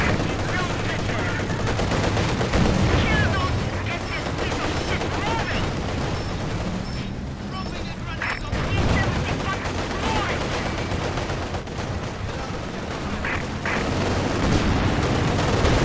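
Enemy soldiers in a World War II-style game open up with dense, sustained gunfire and machine-gun bursts, mixed with occasional heavy booms, loud and continuous throughout.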